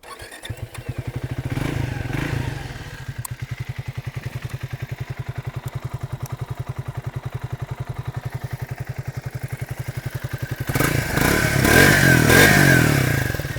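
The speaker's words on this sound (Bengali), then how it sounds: "চলুন তাহলে এবার এক্সহস্টের সাউন্ডটা একবার আমি আপনাদেরকে শুনিয়ে দিচ্ছি এই বাইকটা।" Triumph Speed T4 350cc motorcycle idling with a steady, close thumping exhaust beat for about ten seconds, then a louder rev of the throttle near the end.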